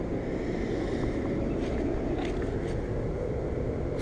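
A 5-ton Evcon central air conditioner from 2005 runs outdoors with a steady, loud, broadband whoosh of fan and compressor noise that holds level throughout, with no talking.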